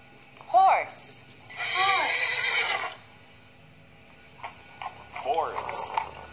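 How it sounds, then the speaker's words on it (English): A horse neighs in a few separate whinnies, loud and close, with quieter gaps between the calls. "Horse."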